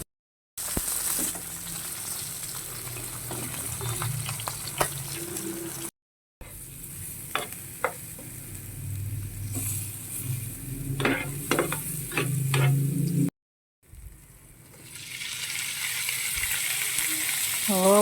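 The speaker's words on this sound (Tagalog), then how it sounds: "So, fried lang ako ng fish." Fermented fish (burong isda), thawed from the freezer, fries in a pan in three stretches of steady close sizzling with clicks and stirring scrapes, separated by brief silences, the last stretch rising into a louder even hiss; no speech.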